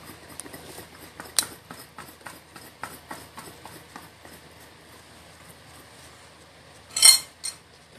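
Rujak fruit salad with chili being shaken in a container, a quick run of rhythmic clicking and rattling that ends in a louder double clatter near the close, with no talking.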